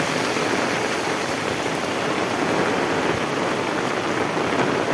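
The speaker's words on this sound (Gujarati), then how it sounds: "કડાકા ને ભડાકા સાથે વરસાદ પડી રહ્યો છે." Very heavy monsoon rain pours down in Vejalka village, Ranpur taluka, Botad district, a dense, unbroken roar of rainfall that stays loud and even throughout, with no voices.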